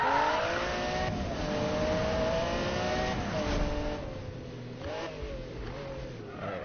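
Car engine in Need for Speed Rivals accelerating hard with nitrous, a loud continuous revving whine rising and shifting pitch alongside a steady game soundtrack, with no talk.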